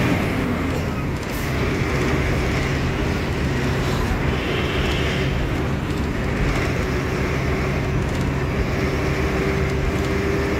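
Kolkata Metro Orange Line train running past Eco Park station, giving a continuous loud rumble and roar that holds steady throughout.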